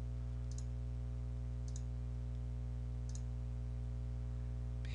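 A computer mouse clicks three times, spaced roughly a second apart, each a short, faint tick over a quiet steady hum.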